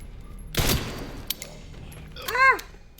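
Gunfire in the Resident Evil Requiem video game: one loud, sharp shot burst, then lighter mechanical clicks and a short, high, falling electronic sweep near the end.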